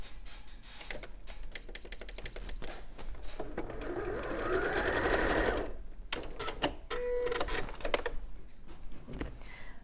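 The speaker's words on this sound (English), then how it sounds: "we'll just zigzag across here to sew this together" Sewing machine zigzag stitching across a fabric panel, bursts of quick rhythmic needle clatter that stop and restart, heard close up with a person talking between runs.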